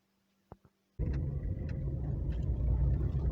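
A car engine starts up and runs steadily at idle after a couple of short clicks, a low continuous rumble close by with no talking.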